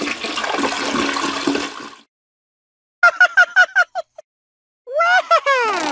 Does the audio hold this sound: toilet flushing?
yes